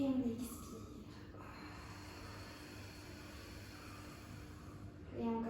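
Slow, soft exhalation during a yoga breathing exercise, a faint airy breath out under steady low room noise, with a brief voice at the start and end.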